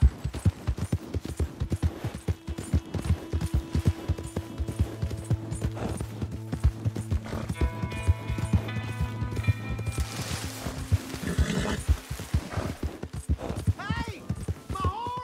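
Horse hooves clop rhythmically in Red Dead Redemption 2 as a horse runs close by, with a neigh, game background sounds and character voices over the top.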